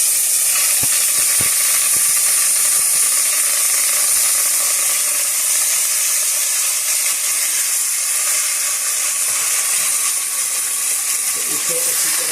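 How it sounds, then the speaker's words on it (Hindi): Mixed vegetables hit hot oil for a homemade vegetable soup, a steady loud hiss and sizzle that carries on without a break, with faint stirring clicks underneath. "ये ऑयल गर्म हो गया है तो इसमें हम वेजी"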